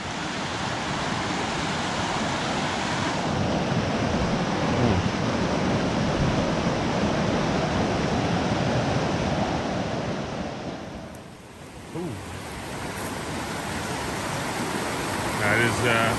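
A mountain river rushing at a river crossing near Castleguard Meadows, a dense continuous roar of water with wind noise, steady and loud, briefly dipping near the end.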